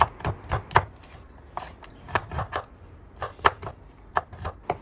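Sharp knife strokes chopping through chocolate on a board, a quick irregular series of crisp cuts with short pauses, close and clear, no talking.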